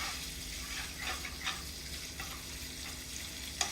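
Bacon sizzles and fries in oil in a pan, a steady dense crackle with a few brief louder pops, close and continuous with no voices.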